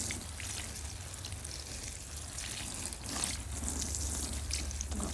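Water is poured onto strawberry plants in a greenhouse, a steady trickling and splashing that runs evenly throughout, close and fairly soft, with no voices.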